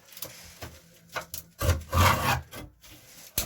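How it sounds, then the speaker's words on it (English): A ceiling vent cover is pulled down, giving a few short scraping and rubbing sounds close by, with a louder grinding scrape near the middle. "I just got to pull his vent down."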